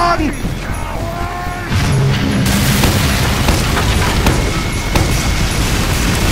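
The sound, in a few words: cannon firing in the video game Team Fortress 2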